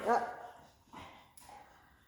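Indoors during an obedience lesson, a dog gives a brief, faint whine that trails off into soft whimpers, partly overlapped by a person speaking nearby.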